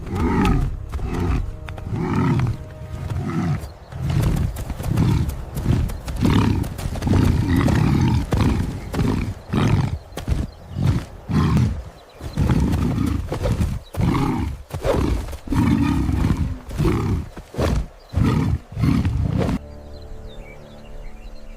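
Lions roaring on the Ngorongoro grasslands, a long run of deep, loud, rhythmic roars and grunts close by, repeated continuously with brief pauses, and no voices.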